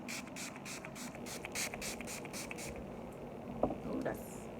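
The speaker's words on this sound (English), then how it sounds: "I'm gonna go ahead and use this as a setting spray." Wet n Wild Coconut setting spray mists onto a face in a quick run of about ten soft, evenly spaced spritzes, close and fairly quiet, followed by a few faint handling clicks.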